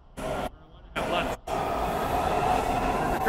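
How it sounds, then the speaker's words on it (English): A Washington Metro subway train rumbles through Farragut North station with a loud, steady rolling roar, broken by brief gaps early on, and people talk over it. "The train."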